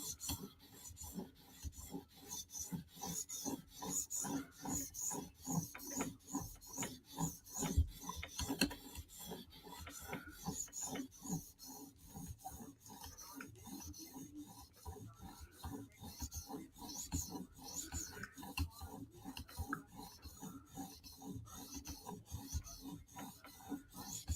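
A sharpening stone honing a mirrored Mini Arius knife blade, a close, steady rhythm of rasping strokes repeating over and over without talk.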